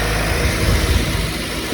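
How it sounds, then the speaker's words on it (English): A 2008 Honda Civic Mugen Si idles steadily with its AC compressor clutch spinning, a close, even mechanical hum and whir with a constant low rumble and no speech. "you can see that the clutch is now spinning down there"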